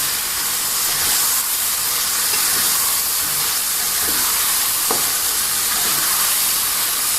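Chicken feet frying and being stirred in a pan for spicy ceker mercon, a steady loud hiss and sizzle running throughout with faint scraping of the stirring, no talking.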